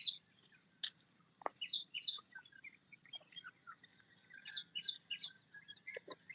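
Bright, quick bird chirps sound from a tree, repeated in short clusters of high tweets and trills over faint background hum, fairly close and with no one talking.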